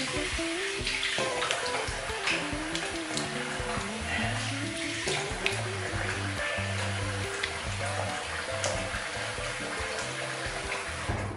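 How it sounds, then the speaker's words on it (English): Water runs steadily from a tap into a sink to rinse alum off a face after shaving, giving a continuous close splashing rush under faint background music. "If I don't rinse the alum off, it can muck up the lather when I put it on my face."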